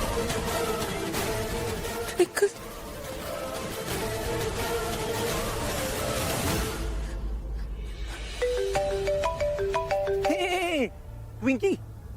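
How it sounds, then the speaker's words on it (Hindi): An incoming call sets off a phone ringtone, a bright melodic run of electronic notes that follows a stretch of loud dramatic background music and stands out clearly in the latter part. "ट्विंकी देख तेरी बहन का कॉल है।"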